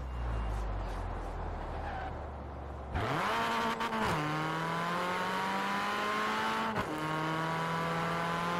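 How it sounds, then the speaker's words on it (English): A Ford Escort Cosworth rally car engine in the video game Forza Horizon 4 drones at steady pitch, then abrupt gear shifts cut and jump the tone, with a clunky, breaking-sounding shift around the middle and another later. "the shift noise really sounds like it sounds like something's breaking up"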